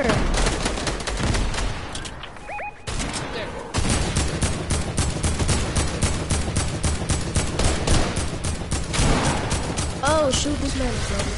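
Dense, rapid video game gunfire rattles almost without pause in a squad shooter match, with bursts and distant explosions layered in and voices talking over it.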